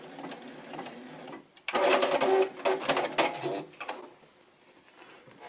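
A sewing machine zigzag-stitches a button onto fabric, a dense mechanical whirring burst of about two seconds, close and fairly loud, with softer handling clatter before and after.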